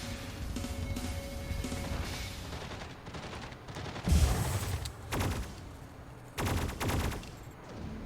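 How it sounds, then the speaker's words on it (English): A pulse cannon fires in a video game as a few heavy, crashing blasts spaced seconds apart, over a low continuous background rumble. "Old pulse cannon going there"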